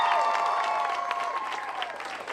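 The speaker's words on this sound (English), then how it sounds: "how about another big round of applause for Terry and Kareem" An outdoor neighborhood crowd at a National Night Out event in Hyde Park claps, dense applause that starts full and slowly tapers over a couple of seconds.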